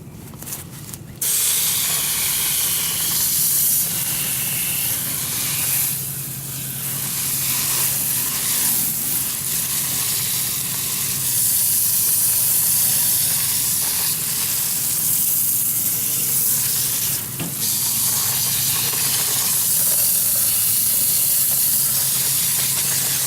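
Foaming HVAC coil cleaner sprays onto a unit's coil in a long, steady, loud hiss with light sizzling, pausing briefly near the start and again later.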